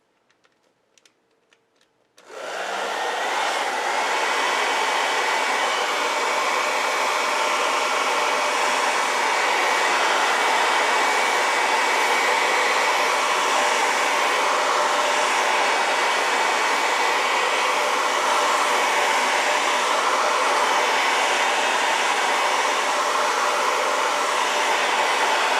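After a short quiet start with small clicks, a hair dryer switches on at its cool setting to dry a gel plate print, blowing with a loud, steady whoosh that continues unchanged for more than twenty seconds.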